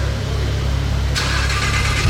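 A modified car's engine fires up and runs with a loud, rough, raspy tone, the start arriving midway after a low rumble.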